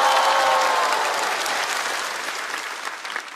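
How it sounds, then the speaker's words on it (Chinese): A studio audience at a stand-up comedy show claps for the first performer, a dense, loud wave of applause that tapers slightly toward the end. "我们先给他鼓鼓掌好不好，给他打打气。"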